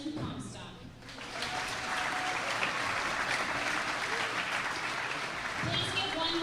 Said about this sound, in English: Please give one more round of applause to all of our seniors this year.